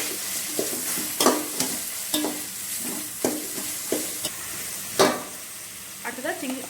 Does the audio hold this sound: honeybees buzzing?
no